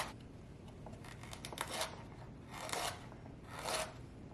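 A knife dices celery on a cutting board for a soup, three or four separate bursts of quick chopping strokes, close and moderately loud with no talk.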